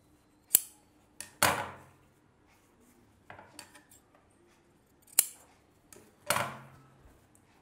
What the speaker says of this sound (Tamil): இந்த பீஸரை மட்டும் வெட்டிடுங்க